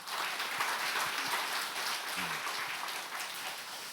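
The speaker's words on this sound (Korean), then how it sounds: "하나님께 감사와 영광의 박수를 올려드립니다" A church congregation gives a sustained round of applause at a 16th-anniversary worship service, a dense, even wash of many hands clapping that fades slightly toward the end.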